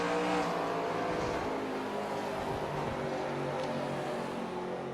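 Race car engines roar steadily in the NASCAR Racing 2003 video game at Daytona, a loud, continuous drone of several cars running together with no pauses, and no voices over it.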